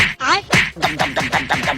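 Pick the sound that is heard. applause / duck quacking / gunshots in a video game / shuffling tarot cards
duck quacking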